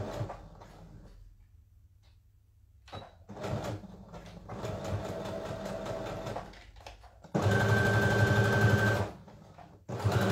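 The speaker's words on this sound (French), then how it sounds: "Et là, je vais piquer ici à 1 cm." A sewing machine stitches a folded faux fur piece for ankle boots, running in several bursts of steady whirring with short pauses between, loudest near the end.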